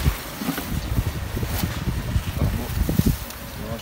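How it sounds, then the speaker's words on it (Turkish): Strong wind gusts buffet the microphone outdoors in a garden, producing irregular low rumbling bursts and flutter that rise and fall throughout. "Tabi aşırı rüzgar var yine"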